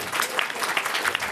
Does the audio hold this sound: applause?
yes